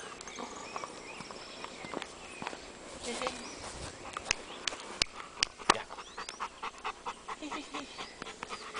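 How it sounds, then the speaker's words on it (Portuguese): Quick, rhythmic breathy panting from a Maremma sheepdog close by, mixed with scattered clicks and footstep-like taps and faint voices in the background. "É um cão dócil."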